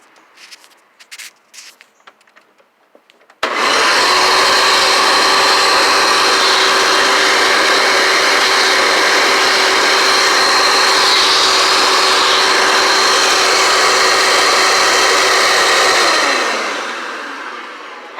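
A Hoover Caddy Vac vacuum cleaner with its hose attached starts abruptly after a few light clicks, then runs loud and steady with a constant whine before tapering off as it shuts down.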